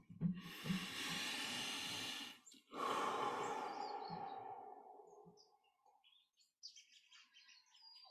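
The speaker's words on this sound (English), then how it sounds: "we'll just take in a deep breath" A long, deep inhaled breath, close and breathy, drawn in over about two seconds, followed by a slower breath that tapers away into quiet, with faint ambient sounds after.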